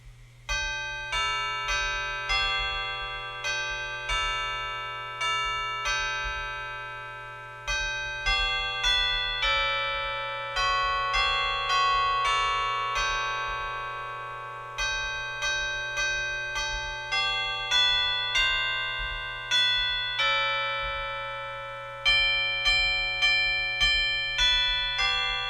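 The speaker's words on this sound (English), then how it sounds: "The chimes are generally designed for one note at a time playing. The overtones are very strong, so I'll play them that way for you right now." Vintage Schulmerich chimes struck one note at a time, each clear bell tone ringing with strong overtones and decaying before the next, in a steady melodic sequence over a low steady hum.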